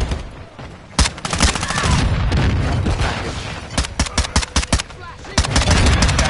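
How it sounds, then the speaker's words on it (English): Loud video game gunfire, a shotgun among bursts of rapid shots and booms in a shooter match, with sharp repeated blasts and some sustained fire, mostly alone. "her shotgun is pissing me off"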